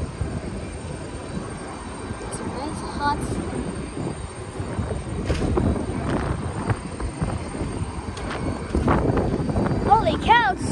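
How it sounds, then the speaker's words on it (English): Gusty wind roars and buffets the microphone, rising stronger toward the end, with scattered voices and a few high chirps in the background. "Holy cow, it's so windy! It's super windy."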